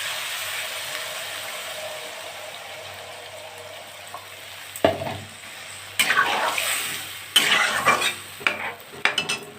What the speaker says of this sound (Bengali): তো আমি জল দিয়ে দিচ্ছি।